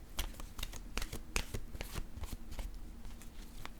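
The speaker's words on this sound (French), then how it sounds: "je vais piger une carte de mon oracle de l'âme intuitive" Oracle cards riffled and shuffled by hand in a quick series of crisp, close flutters and taps before one is drawn, with no talking.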